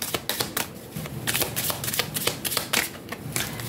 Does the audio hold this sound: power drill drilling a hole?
no